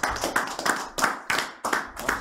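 An audience applauds a guest at a live show about the Lunel bullrings, with bursts of hand clapping rising and falling in about seven pulses, loud and close.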